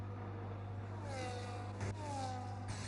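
A Ferrari race car in a racing video game pulls out of its pit box, its engine revving up in rising sweeps over a steady low hum, fairly faint and with no voices.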